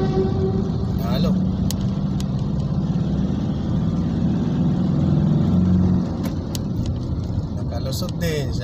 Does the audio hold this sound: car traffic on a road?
yes